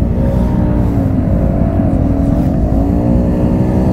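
A car stuck in mud revs hard, its engine droning loud and close with rising and falling pitch as the throttle is pushed, with no talking over it.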